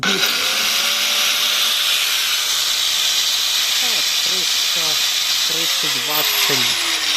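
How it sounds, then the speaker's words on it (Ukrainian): An angle grinder powered through a 12V-to-220V inverter gives a steady high-pitched grinding whine, running continuously and loudly throughout, with a voice talking briefly over it toward the end. "Ось болгарка. Це болгарка."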